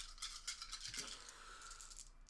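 Six dice for an X-Wing proton torpedo attack tumble and rattle across a tabletop in a brief scattered clatter of quick light clicks that settles within about two seconds, close and fairly quiet.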